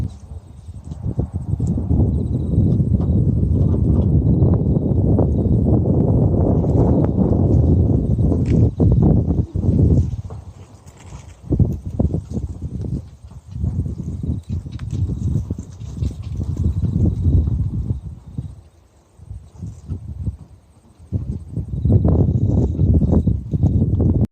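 Horse hooves clop steadily on a hard surface nearby, with rustling and faint birds in the background.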